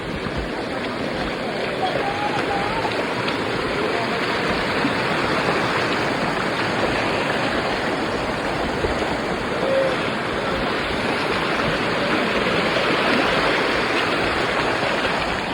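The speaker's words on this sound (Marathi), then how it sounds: "आता आपल्याला ओढा क्रॉस करायचा आहे." A hill stream near Gupt Bhimashankar rushes with a constant, fairly loud watery roar as people wade across it.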